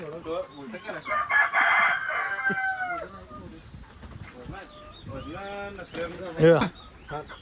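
A country rooster crows with long, rising and falling calls, nearby and fairly loud, amid other clucking fowl while people talk.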